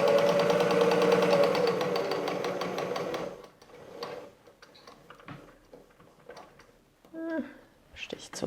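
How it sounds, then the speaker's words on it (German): Sewing machine stitching closely around the edge of a fabric square at stitch length 3, a fast even rattling hum for about three seconds, then stopping as quiet handling noises and a voice follow. "Halten die hinteren beiden Fäden fest und nähen einmal knappkantig um unser ganzes Quadrat."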